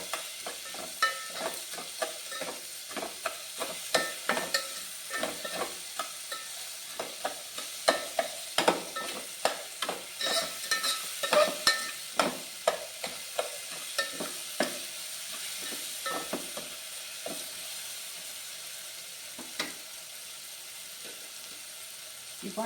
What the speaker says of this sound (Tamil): தக்காளி நல்லா வதங்கும்